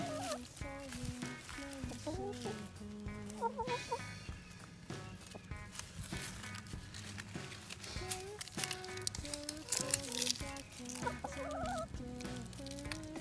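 Continuous clucking and gobbling from several fowl, soft and fairly distant, with people talking quietly underneath.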